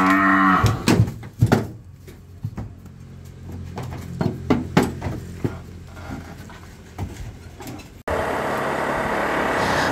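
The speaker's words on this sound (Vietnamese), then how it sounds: "Đây, đang lên mấy con bò đi giao cho khách nè anh chị." Cattle being loaded onto a truck for delivery moo loudly and repeatedly amid clattering and shuffling, followed by a steady engine-like rumble at the end.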